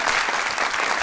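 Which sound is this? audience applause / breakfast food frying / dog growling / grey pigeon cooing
audience applause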